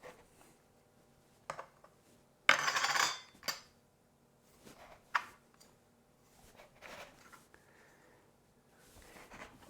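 Vol-au-vent pastry bottoms are cut out on a kitchen counter, giving a few short, scattered clicks and scrapes of a cutter against the board, with quiet gaps between them.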